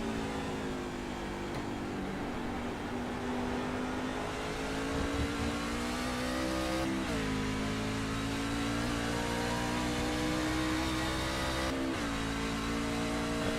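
Racing pickup truck engine flat out on an oval track in the Lake Huron 150, a loud sustained roar with steady harmonic pitch that drops briefly at two gear or throttle changes.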